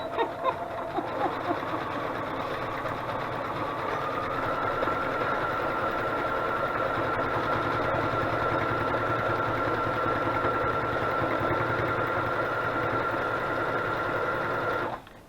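A sewing machine runs continuously, stitching through collaged paper journaling cards with a steady fast mechanical hum and needle patter close by, starting with a few short bursts before the long even run stops near the end.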